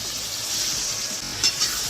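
Chicken pieces dropped into a pan of frying masala for a chicken roast, a steady loud sizzle with a couple of brief sharp spatters near the end.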